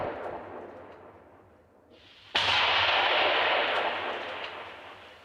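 A sharp, heavy mortar or RPG blast cuts in midway and rumbles on for seconds, following a fading earlier boom; distant military fire echoing across open fields.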